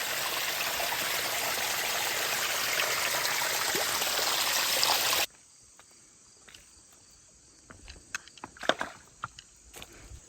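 A creek at Clifty Falls State Park rushes in a steady, even wash for about five seconds, then cuts off abruptly to near quiet broken by a few scattered clicks and steps.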